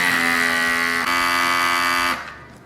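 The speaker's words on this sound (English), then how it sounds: "I'm gonna be using this handheld vacuum sealer, and let it rip" A handheld vacuum sealer runs on the lid of a jar of Puerto Rican sofrito, a loud steady electric buzz that shifts slightly in pitch midway and stops after about two seconds.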